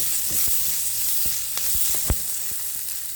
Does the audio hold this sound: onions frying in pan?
yes